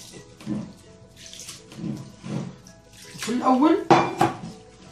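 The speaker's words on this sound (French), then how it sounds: "Maintenant, on ajoute de l'eau." Lukewarm water is poured into dough in a mixing bowl. A short rising gurgle of pouring comes near the end, among close clinks and knocks of dishes and utensils.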